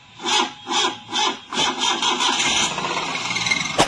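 A Maruti Alto 800 car engine cranks over with several slow, rhythmic starter-motor groans. It then catches and settles into a close, loud, rough running idle, with no talking.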